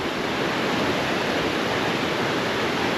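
A river flowing beside a road in the Smoky Mountains gives a steady, dense rush of water that stays even and unbroken from start to finish, with no voices.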